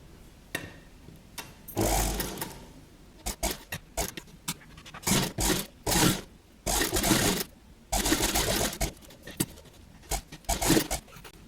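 A sewing machine stitching along the edge of a paper canvas while a kurti with a band collar is made, running in repeated bursts of steady whirring with short pauses between, close and fairly loud, no voices.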